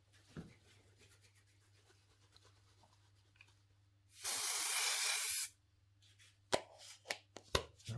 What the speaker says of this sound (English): Now let's spray it.